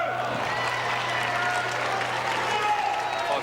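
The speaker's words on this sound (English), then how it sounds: "Crowd sensing a chance for Chang." Tennis crowd at the US Open applauding and cheering during a Chang versus Gonzalez match in 2003, a steady, fairly loud wash of clapping and crowd noise lasting throughout without a break.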